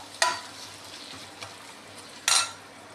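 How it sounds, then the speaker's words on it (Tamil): Chopped onions sauté quietly in a pan, with a low hiss and a few short stirring scrapes or clinks spaced across a few seconds; no one speaks. "2 வெங்காயம் அரிஞ்சு வச்சுருக்கேன். அதை நல்லா வதக்கிக்கணும்."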